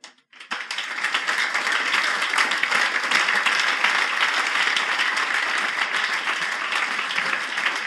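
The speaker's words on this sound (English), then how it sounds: "Let's give an applause to the Lord." A worshipping congregation bursts into loud, sustained applause at a lively church service, with dense crowd clapping that starts abruptly after a brief pause and holds steady throughout.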